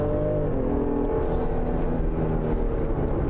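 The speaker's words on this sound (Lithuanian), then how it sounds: "Labai labai smagus varikliuko garsas." Ford Explorer Plug-in engine pulling under acceleration, a steady low drone that rises slightly in pitch, heard from inside the cabin with no voices over it.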